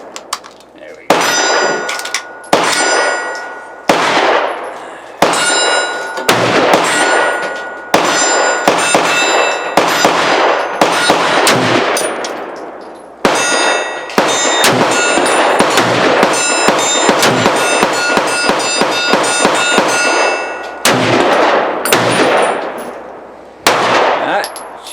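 Remington Model 742 Woodsmaster semi-automatic rifle in 30-06 fired at short range without a scope, a long series of loud, sharp reports with metallic ringing, spaced irregularly and sometimes in quick succession.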